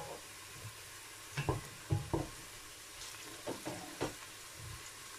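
Onions browning in a frying pan while a zucchini and chana dal dish is cooked, with soft sizzling under a few scattered stirring scrapes and clatters, moderately quiet and close, no talk.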